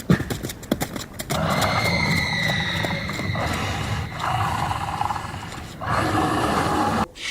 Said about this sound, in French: Les chevaux sont paniqués, les cavalières effrayées.